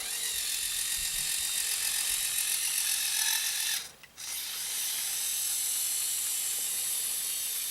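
Lego Technic 6x6 tow truck with an XL main motor and a medium steering motor driving on carpet, a steady close whirring gear drone that dips briefly midway and then resumes, with no talking.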